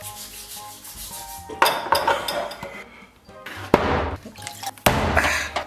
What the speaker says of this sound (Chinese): 先把这个口黑的部分给它擦洗干净。